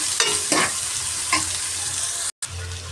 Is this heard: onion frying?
yes